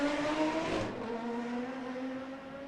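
GT4 race cars at Macau Grand Prix qualifying, a steady engine drone with a tonal whine, louder at first then easing into a continuous mid-distance hum.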